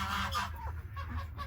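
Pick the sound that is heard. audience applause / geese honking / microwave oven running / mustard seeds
geese honking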